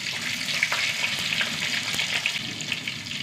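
Fenugreek seeds, dried red chillies and sliced shallots sizzle and crackle in hot oil in a pan, a loud, steady frying hiss with small pops and stirring scrapes, close up with no talking.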